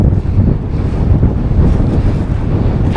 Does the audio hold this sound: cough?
no